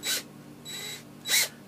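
A small power drill bit boring through the plastic fist hand of a 1/6 scale Hot Toys figure, heard as three short high whirring bursts with brief pauses between them, close and fairly loud, with no talking.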